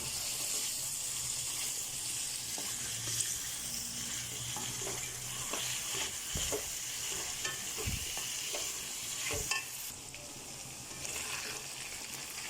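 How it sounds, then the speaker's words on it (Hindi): Goat liver and kidney fry over a full flame, giving a continuous close sizzle. Stirring adds scattered clatter and scraping, with a few louder knocks of the spoon against the pan. "फुल फ्लेम पे रखिएगा और फुल फ्लेम पे रख के भुनिएगा।"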